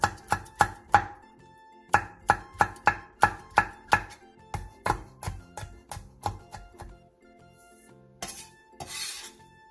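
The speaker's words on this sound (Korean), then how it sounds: "청양고추 2개와 청양홍고추 3개도 길게 반으로 갈라 쫑쫑 썰어주세요" A knife chops halved Cheongyang green and red chili peppers on a cutting board in quick bursts of sharp, close taps, pausing between runs and ending with a softer scraping rub.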